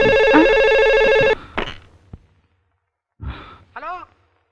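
A telephone rings loudly and steadily at close range on an outgoing call, then cuts off, followed by a sigh, soft breaths and brief vocal sounds in a quiet room.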